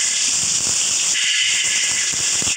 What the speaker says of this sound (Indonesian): itu suara keran air ya